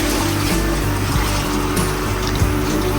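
Tap water runs steadily from a faucet, a constant full rushing stream close by with no pauses.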